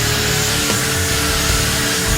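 A wooden kitchen cutting board sanded by hand, giving a steady, close, rasping scrape that runs without pause from start to finish, with no voices.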